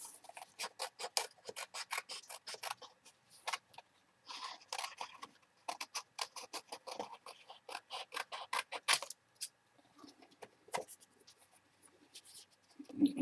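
Scissors cutting carefully around a figure in paper, with a rapid series of crisp snips and rustles in bursts, close and fairly quiet, then pausing near the end.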